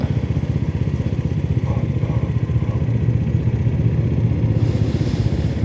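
A Kawasaki Vulcan 650 cruiser motorcycle being ridden, its engine running in a steady, continuous drone with a low rumble and rushing wind noise, loud and close throughout with no voices.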